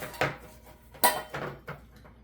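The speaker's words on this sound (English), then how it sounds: "Put everything in the stainless steel bowl." Small metal freehub parts from a bicycle hub are dropped into a stainless steel bowl, giving a few close clinks and rattles over about two seconds.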